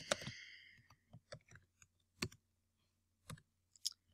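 Sparse keystrokes on a computer keyboard while coding, a quick burst of clicks at the start followed by scattered single taps and short pairs, close and fairly quiet with pauses between.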